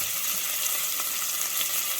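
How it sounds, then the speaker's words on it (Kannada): Hot oil sizzles steadily in a pan as a curry tempering with curry leaves, coriander and a vegetable fries for a sambar, a close, even hiss with no pauses and no talk. "ಈ ಬದ್ನಿಕಾಯಿನ ಸ್ವಲ್ಪ ಎಣ್ಣೆ ಒಳಗೆ ಫ್ರೈ ಮಾಡಿಕೊಂಡು"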